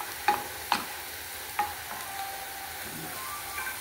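Sliced onions sautéing until browned in a pan, a faint steady sizzle broken by three or four sharp scrapes and clacks of a utensil against the pan, no voices.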